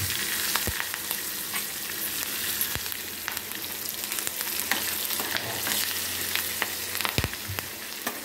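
Curry leaves and a generous spoon of asafoetida sizzle steadily in hot oil for tamarind rice, a dense, close crackle with occasional sharp pops and stirring clinks throughout, no voices.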